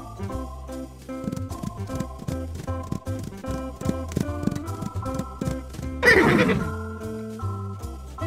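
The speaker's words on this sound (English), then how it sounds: "Two horses." A horse neighs once, loud and close, in a bright drawn-out whinny that rises over steady background music in a children's farm counting song.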